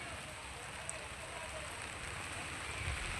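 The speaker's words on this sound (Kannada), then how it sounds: "ಈ ಸೈಡ್ ತುಂಬಾ ಮಳೆ ಇದೆ." Heavy rain falls in a dense, even hiss of drops on surfaces, steady and unbroken for the whole stretch, with no voices.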